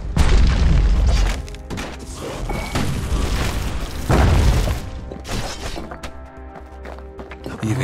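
Grenade explosions in Bastion, two heavy booming blasts a few seconds apart with crashing, rumbling tails, followed by quieter mechanical game sounds.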